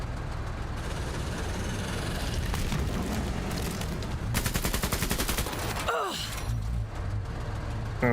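Gunfire in the video game Menace: steady rolling bursts of automatic fire and distant booms throughout, with a sharper close volley in the middle and heavy rumbling under it.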